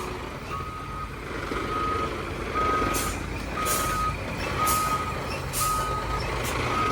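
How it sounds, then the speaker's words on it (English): A dump truck hauling soil away from a digging site in a small Spanish village sounds loud, evenly spaced reversing beeps over its low idling engine rumble. "Good bit of driving. Waiting to carry some more soil away."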